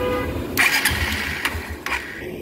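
A Honda Hornet motorcycle with a sound problem cranks and catches close by, its engine rumbling loud and steady with a few sharp mechanical clacks over the running note.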